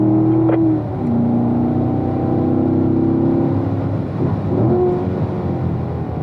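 A car on a race track accelerates out of a turn and shifts up into fourth gear, the engine note rising, dropping at the shift and climbing again; close, continuous engine roar with no talking.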